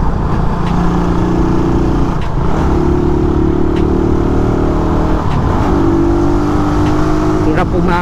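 A 2018 Raider 150 carbureted motorcycle labors uphill on a road in Cavite, its engine droning loud and close at low RPM with shifting pitch and steady wind and road noise, no voices over it.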